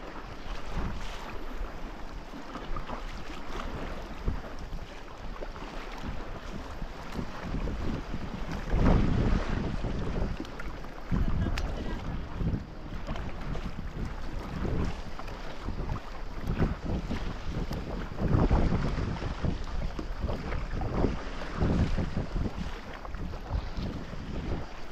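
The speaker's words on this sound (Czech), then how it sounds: "ale jsou vlny, mámko, my jedeme v takých vlnách" A fast boat pounds through choppy waves off Pelješac, Croatia, with steady loud wind buffeting the microphone and surging water and hull thumps throughout.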